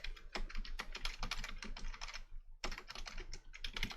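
Steady, rapid typing on a computer keyboard, the keys clicking in quick irregular bursts with a brief pause midway, close and clear with no talking.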